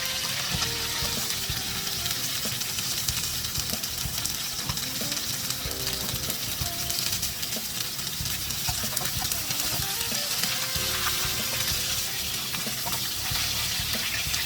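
Flour-coated cod fish fries in hot oil with a continuous, even crackling sizzle at close range, and occasional utensil scrapes sit beneath it.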